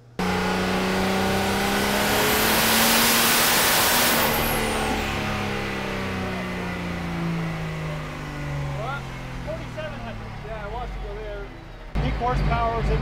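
A 2000 RWHP Cummins diesel race truck making a dyno pull, a loud roaring engine sweeping up in pitch and then tapering off, followed by talk near the end.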